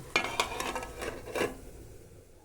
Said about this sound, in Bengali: এবার ঢাকনাটা খুলে দিয়েছি